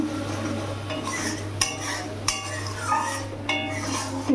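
A spoon stirs chopped onion, tomato, cumin-ginger paste and green chili in a pan for a prawn and pointed gourd curry, giving a few sharp clinks and scrapes over a steady low hum. No one talks.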